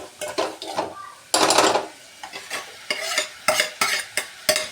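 Tomatoes stirred into frying onions with oil tempering in a pan: a spoon clanks and scrapes repeatedly against the pan in short bursts over a soft sizzle, close and fairly loud.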